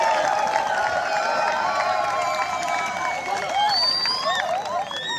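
A crowd at the launch ceremony for national state exams applauds and cheers, steady dense clapping with raised voices and whoops running throughout, fairly loud and sustained.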